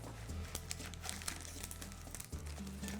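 Crinkling of a plastic Ziploc bag being cut along its sides with scissors during empanada prep in a kitchen, steady close rustling and snipping for several seconds.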